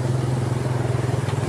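A motorcycle rides through deep flood water on a flooded Pasig street during Typhoon Carina, its engine a steady, close, low droning hum with no voices.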